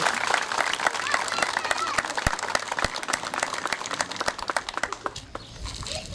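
At a march for Paola Gomez in Santa Fe, a crowd applauds outdoors, scattered, uneven clapping with sharp individual claps standing out, fading toward the end.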